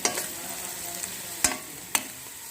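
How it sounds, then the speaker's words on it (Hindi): Onions frying in oil for chicken karahi, a soft steady sizzle with a few sharp scrapes of a spoon stirring the pan, close and moderately quiet. "प्याज को हल्का सा हम करेंगे ब्राउन।"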